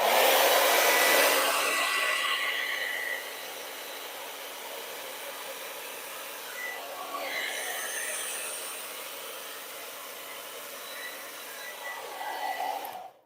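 A blow dryer on its high setting blows over an acrylic paint pour, a steady loud rushing hiss that eases slightly after a few seconds and carries on continuously with no talking.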